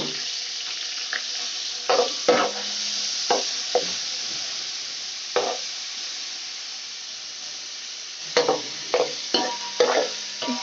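Garlic frying in oil in a cooking pot, a steady hiss and sizzle with intermittent sharp stirring scrapes and clatters, close and fairly loud, no voices.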